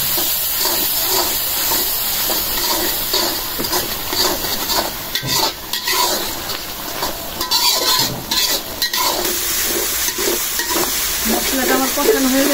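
Ground chilli, coriander and cumin masala is sautéed in a pan with a loud, steady sizzle. Utensils scrape and clatter against the metal throughout, with brief louder bursts of stirring.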